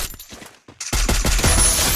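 Rapid gunfire bursts in the mobile shooter game Free Fire, loud and dense after a brief quiet gap, with no talking.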